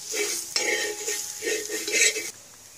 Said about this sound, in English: The masalas have to be added one by one and stirred